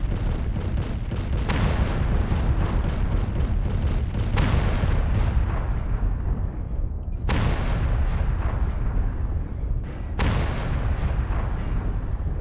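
Arrow IV artillery strike in MechWarrior Online: a series of heavy, booming explosions, about four loud blasts each trailing into rumbling decay, with dense battle noise between them.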